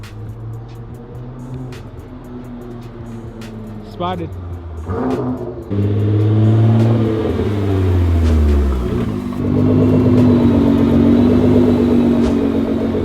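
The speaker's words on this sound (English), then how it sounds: "2014 track edition Nissan GTR, wrapped in my favorite color, lime green." A lime green 2014 Nissan GTR Track Edition revs its engine, a low rumble swelling into loud throaty revving bursts as the car nears, with a person speaking briefly over it.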